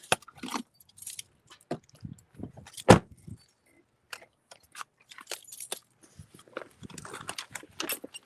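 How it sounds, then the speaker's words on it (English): Keys jangle in a series of quick metallic rattles, with one sharp louder clink near the middle, close and fairly quiet, amid small handling sounds while someone gathers fishing gear. "Get my keys."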